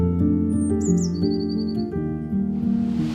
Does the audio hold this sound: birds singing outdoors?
yes